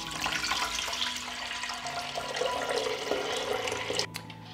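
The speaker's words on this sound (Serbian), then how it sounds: "Moj lonac je zapremine 6 litara i dodajem litar hladne vode." Cold tap water, about a litre, pours steadily into a 6-litre pressure cooker holding closed canning jars, a continuous splashing wash that stops abruptly near the end.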